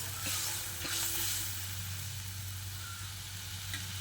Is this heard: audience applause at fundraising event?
no